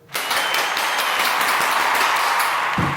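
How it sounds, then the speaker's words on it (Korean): Short burst of applause and clapping in a home workspace during a room tour, steady and fairly loud from start to end with no talking. "박수."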